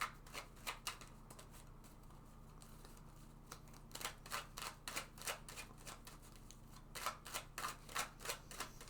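Tarot cards being drawn and handled, a series of crisp quiet flicks and snaps in irregular clusters with a soft rustle between them, close and faint.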